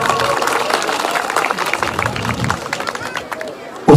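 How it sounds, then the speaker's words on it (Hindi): Applause breaks out at a village youth club event welcoming a panchayat president, brisk clapping from a crowd mixed with chatter and voices, fairly loud and close, ending in a sudden bump. "जोरदार एक दफा तालियों का स्वागत"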